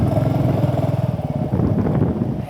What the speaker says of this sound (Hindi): बाइक राइडिंग कर रहा हूँ